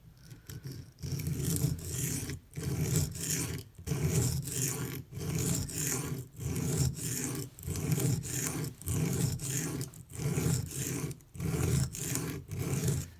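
A Microtech UTX-70 knife is drawn across coarse Venev pocket diamond stones in light, rhythmic scraping passes, about a dozen strokes separated by brief gaps, close and clear without talk.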